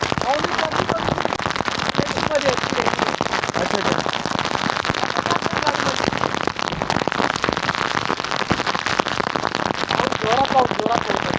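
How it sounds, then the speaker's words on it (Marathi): Heavy rain pours down steadily throughout, a dense, loud hiss of drops pattering on surfaces and a tent with a few sharper splats, while a voice talks now and then. "आता सध्याला की एकदम जोरदार पाऊस चालू झाला एकदम जोरदार"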